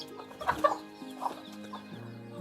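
A hen with small chicks gives a few soft, scattered clucks, faint and spaced out over a quiet farmyard background.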